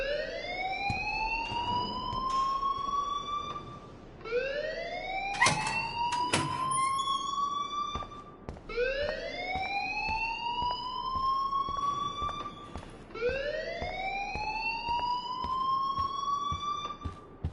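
A rising, wailing alarm in the Life is Strange video game repeats four times, each sweep climbing in pitch over about four seconds, loud and close, with sharp clatters in the background around the second cycle.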